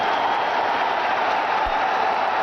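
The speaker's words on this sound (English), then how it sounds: "Another loud cheer from their fans." Cricket crowd in Dhaka cheering as Pakistan reach 200 against India at the 2012 Asia Cup, a steady far-off roar of fans filling the whole moment, broad and unbroken with no distinct voices.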